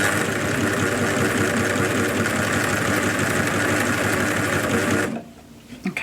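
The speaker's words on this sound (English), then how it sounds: "it's always good to do a bit of a test sew and see where the binding's actually going to stitch" A sewing machine test-stitches double fold bias binding onto fabric bunting, whirring in a loud, fast, continuous mechanical rattle for about five seconds before stopping abruptly.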